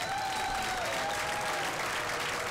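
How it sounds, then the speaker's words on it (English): An audience at the Peabody Summer Concert Series claps in welcome for North Shore A Cappella, dense sustained applause with a faint whistle or cheer, heard steadily throughout. "Please join me in a warm round of applause for North Shore a cappella."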